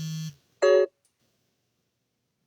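A mobile phone rings indoors with short electronic tone bursts separated by silence, clear and fairly close, with a fresh tone starting just at the end.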